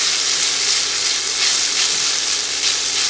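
Noodles frying in canola oil in a pan give off a steady, loud, hissing sizzle that stays even throughout, with no voices over it.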